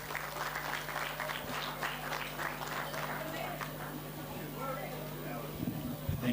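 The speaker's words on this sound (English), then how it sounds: "Let's give him a round of applause." A crowd at a Grade 7 farewell luncheon at a school in Lusaka gives a round of applause for the PTA chairperson: dense, steady clapping from many hands, fairly distant and sustained throughout, with a voice briefly emerging near the end.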